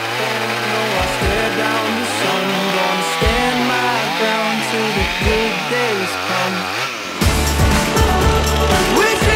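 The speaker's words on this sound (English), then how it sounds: "Oh my gosh, the chainsaw is stuck in it." Loud chainsaw cutting into a tall tree during felling, its engine revving and bogging in continuous waves as the bar binds in the wood, then a sharper burst of noise near the end.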